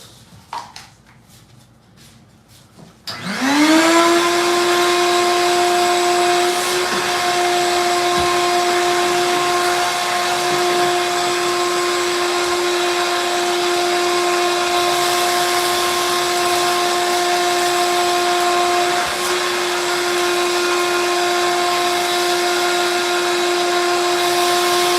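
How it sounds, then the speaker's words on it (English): A vacuum cleaner starts up after a few seconds of quiet and runs steadily and loudly with a constant high whine, cleaning out each level of a wooden structure with replaceable wood pieces. "We'll go ahead and vacuum each level out."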